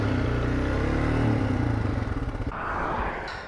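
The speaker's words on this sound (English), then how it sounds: "the engine faltered under the load" A motorcycle engine labors and falters under load with a burned clutch, its uneven mid-pitched drone pulsing and sputtering, then dropping into a rougher, lighter whir near the end.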